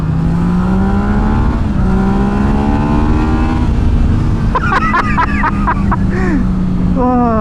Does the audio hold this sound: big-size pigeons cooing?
no